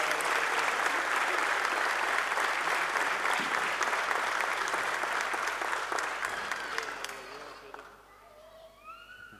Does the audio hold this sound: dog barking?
no